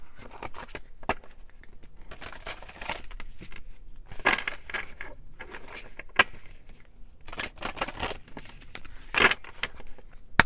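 Tarot cards being drawn and handled, with soft papery shuffles, rustles and crisp card snaps in irregular bursts between quiet pauses, close to the microphone.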